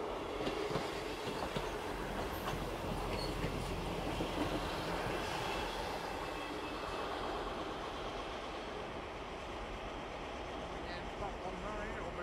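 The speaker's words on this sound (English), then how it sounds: "we have a 3-car Great Western Railway train approaching" A three-car Great Western Railway train rolls past steadily and close by, a continuous rumble with faint rail clatter, lasting throughout without pause.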